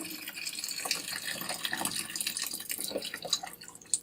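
Tap water runs and splashes steadily as cilantro is rinsed in a small pot, a close, continuous trickle with scattered drips and spatters, no voices.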